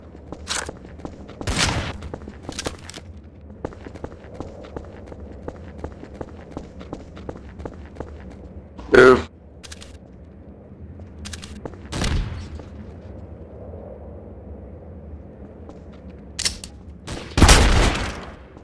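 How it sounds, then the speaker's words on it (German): Scattered gunshots in the game Trouble in Terrorist Town, with a few loud isolated blasts and a final burst among quieter footsteps and movement. "Ja, ich werde angeschossen!"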